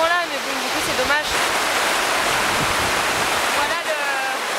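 A strong-current river in Iceland roars in a loud, steady broadband rush throughout, with a voice talking briefly over it at the start and again near the end.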